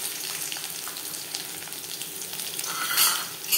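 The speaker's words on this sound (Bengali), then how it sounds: "ভাজবার জন্য দিয়ে দিয়েছি সরষের তেল, দিয়ে দেব দুটো শুকনো লঙ্কা" Dry red chilli pieces and garlic frying in hot mustard oil in a pan, a steady close sizzle with faint crackles that swells slightly near the end.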